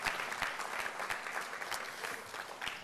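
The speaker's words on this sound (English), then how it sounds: "That deserves a round of applause" Audience applause at a public address on ethical AI policy in New York, dense and sustained clapping from a sizeable crowd with scattered sharper claps standing out, continuous from start to finish.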